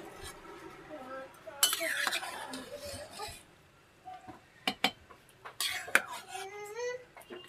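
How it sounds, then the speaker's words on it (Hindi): A metal spoon clinks and scrapes against a pressure cooker pot as vegetable porridge is stirred, in irregular bursts, with a voice speaking now and then in the background. "तो चला लेते हैं हम दलिया को।"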